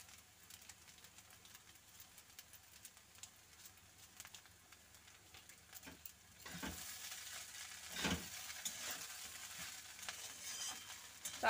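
Poha pulao frying in a pan sizzles faintly at first, then grows louder and closer partway through as stirring adds scraping bursts to the hiss.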